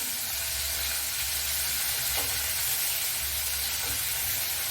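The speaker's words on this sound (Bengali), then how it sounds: "সর্ষের তেলটা গরম হয়ে গেছে, চিংড়ি মাছগুলো ভেজে নেব।" Prawns frying in hot mustard oil make a continuous, even sizzle and hiss with no talk, over a faint low hum.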